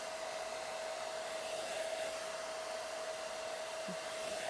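A handheld hair dryer blows steadily on the top section of a man's slicked-back undercut, a continuous close airy roar with a thin whine running throughout.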